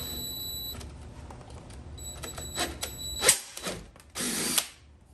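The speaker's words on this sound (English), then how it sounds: "just go ahead and drill into there" A power drill bores into 1/8 inch pilot holes in a Wickerbill spoiler on a 2015-2021 Dodge Charger, making a close whirring grind in short bursts with a clicking pause between.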